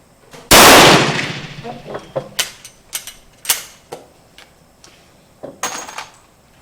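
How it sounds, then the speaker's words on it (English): A Schmidt-Rubin Swiss Cadet model 1870 rifle fires one loud, sharp shot at close range, followed by a series of light metallic clicks and clacks from working the bolt. "So we're back to shooting again."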